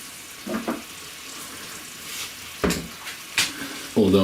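Cheap supermarket bacon fries in a pan with no oil, a steady crackling sizzle with a few louder spits and pops close by.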